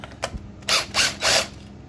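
A 10mm ratchet socket working the clutch cover screws on a 2002 Suzuki Hayabusa, three loud close bursts of quick ratcheting clicks after a couple of light taps, with no talk.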